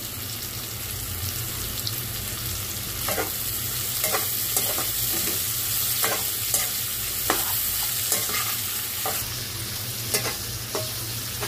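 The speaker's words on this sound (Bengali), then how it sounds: "করলাটাকে তেল পেঁয়াজের সাথে ভালো করে একটু ভেজে নিয়েছি" Bitter gourd frying in oil with onions, a continuous sizzle over a low hum, punctuated by repeated scraping stirs of a spatula against the pan at irregular intervals.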